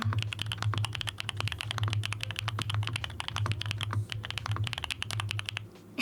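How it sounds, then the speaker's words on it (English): Dense, rapid clacking of keys on a mechanical computer keyboard with custom keycaps, typed steadily and close up with a smooth, creamy tone over a low steady hum, no voices. "You like all the keycap sounds?"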